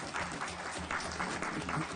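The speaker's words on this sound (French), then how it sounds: "je vous propose de vous applaudir." Sustained applause from the members of the Walloon Parliament during its plenary session, dense steady clapping filling the hall, with faint crowd murmur beneath.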